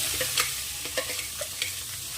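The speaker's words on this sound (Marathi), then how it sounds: "आता आपण या ठेच्याला फ्राय करू" Cluster bean thecha fries in a little hot oil in a kadhai, a bright continuous sizzle punctuated by quick scraping stirs of a spoon against the pan, close and alone.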